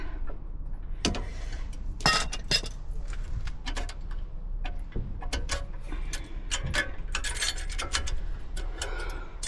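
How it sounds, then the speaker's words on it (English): Brake caliper pins on a car being pulled out with grips, scraping metallic rubs and irregular clinks and ticks close by, no talk heard. "Pull them out with the grips."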